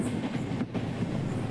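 The 22673 Jodhpur–Mannargudi superfast express runs at about 110 km/h between Chidambaram and Mayiladuthurai, heard from inside as a steady low rumble of wheels on rails, fairly quiet and unbroken.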